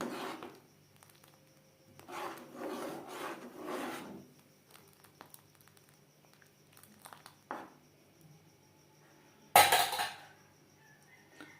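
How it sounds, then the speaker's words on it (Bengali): Gobindobhog rice, about 75 grams, being stirred in a pot for nolen gur payesh (date-palm jaggery rice pudding): a few seconds of steady scraping and rubbing, then two short scrapes later, quiet and with no talking. "গোবিন্দভোগ চাল অ্যাড করেছি এভাবে একটু নাড়াচাড়া করে দিতে হবে চাল যাতে দলা পাকিয়ে না যায়"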